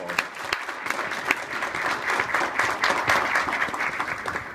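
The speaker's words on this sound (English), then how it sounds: "We'll give them a round of applause." Audience members at a city council candidate forum give a round of applause to thank local sponsors, a lively burst of overlapping hand claps with a few sharp individual claps standing out near the front.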